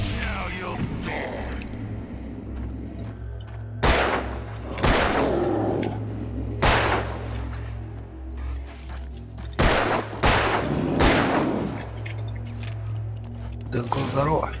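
Gunfire in the Alan Wake video game: several loud, heavy shots spaced a second or two apart over a low droning ambience, with a voice speaking in between.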